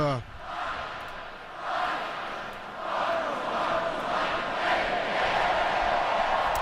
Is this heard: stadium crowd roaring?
yes